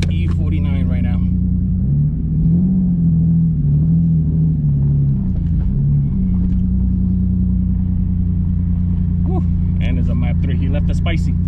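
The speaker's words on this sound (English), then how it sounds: "Going for a test drive. So let's see what the car does." A single-turbo Nissan 370Z engine making 650 wheel horsepower on E50 fuel rumbles steadily from inside the cabin, a low droning hum that rises and falls slightly as it drives.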